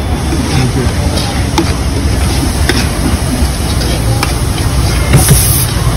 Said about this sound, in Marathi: पूर्ण लाल होईपर्यंत अशी ग्रेव्ही ही आपण फ्राय करणार आहे